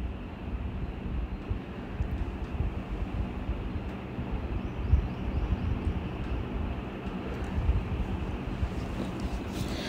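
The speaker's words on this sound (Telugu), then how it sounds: "మన ముందు ఇంకో పడవ వెళ్తుంది చూడండి." A boat travels along a canal at a Pattaya floating market in Thailand, its low engine rumble and water noise running steadily at moderate volume throughout, with no one speaking.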